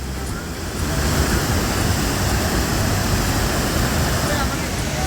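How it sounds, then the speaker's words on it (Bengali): The Narmada river plunges over a waterfall near Jabalpur with a steady, loud roar of rushing water that fills the whole clip and swells slightly after the first second, with no talk over it. "একদম সেই উপর থেকে দেখুন নর্মদা নদী হুঙ্কার দিয়ে মানে গর্জন দিয়ে পড়ছে"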